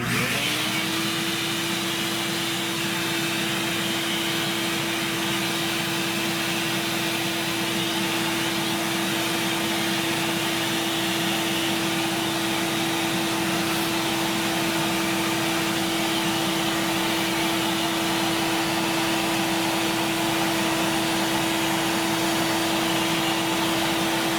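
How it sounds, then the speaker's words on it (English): A vacuum cleaner sucking up fruit flies runs continuously and loudly from start to finish, a steady high whine with a low motor hum and no pauses. "So I'm going to turn this on and get ready to vacuum up some fruit flies."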